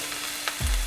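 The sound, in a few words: chopped lemongrass frying in vegetable oil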